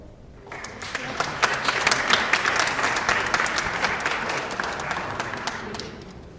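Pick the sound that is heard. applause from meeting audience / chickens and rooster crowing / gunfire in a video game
applause from meeting audience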